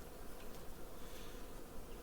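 Steady droning buzz of many bees swarming nearby, continuous and even throughout with no voices.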